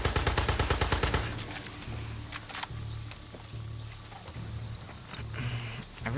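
Rapid automatic gunfire rattles out in a fast burst at the start in Far Cry 6, then gives way to a busier mix of scattered shots and other game sounds.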